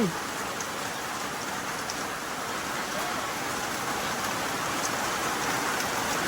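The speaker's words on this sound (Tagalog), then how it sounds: "Lakas ng ulan." Heavy rain pours down steadily during an animal feeding outdoors, a dense continuous roar of drops on surfaces, loud and unbroken with no talking.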